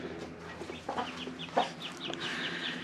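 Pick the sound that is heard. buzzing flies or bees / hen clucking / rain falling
hen clucking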